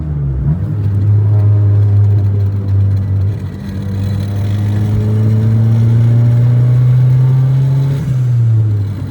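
A turbocharged Honda Civic with a custom full exhaust drones loudly and steadily, its pitch climbing gradually as the engine revs up, then dropping back near the end; deep, close and continuous with no talking.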